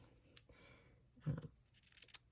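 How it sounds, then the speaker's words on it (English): Scissors snip the ends of a ribbon bow, giving a few faint, close crisp cuts with one clearer snip in the middle, set in a quiet room. "And then I will just trim off the edges."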